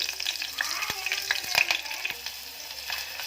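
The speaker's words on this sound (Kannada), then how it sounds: "ಇದಕ್ಕೆ 3 ಹಸಿ ಮೆಣಸಿನ್ಕಾಯಿ ತೊಗೊಂಡಿದ್ದೀನಿ. ಒಗ್ಗರಣೆ ಎಣ್ಣೆ ಒಳಗೆ ಹಾಕ್ಕೊಳ್ಳಿ." Three green chillies hit hot tempering oil for Karnataka-style avarekalu usli, giving a close, steady sizzle with a few sharp spits and crackles.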